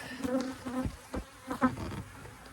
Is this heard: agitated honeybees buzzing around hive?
yes